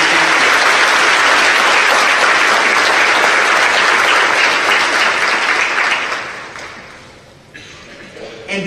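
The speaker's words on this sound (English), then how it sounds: "Let's give them a big round of applause." A large audience at a mayor's State of the City address claps loudly and steadily for trustees and classroom teachers, the applause holding full for about six seconds before tapering off.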